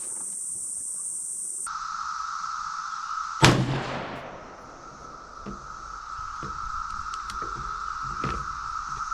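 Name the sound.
rifle shot of 5.56 M855A1 round at steel plate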